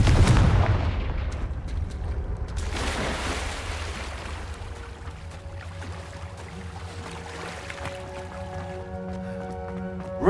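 The Confringo fire spell in Hogwarts Legacy goes off with a heavy low boom at the start, followed by rumbling crackle and lingering game ambience with faint tonal music.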